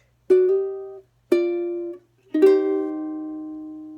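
Three plucked ukulele chords, each ringing out briefly before the next, with short silences between the first two and the last sustained longest.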